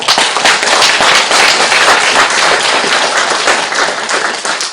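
An audience at a Buddhist Dharma talk claps loudly and densely, a continuous crowd of applause filling the whole stretch without speech.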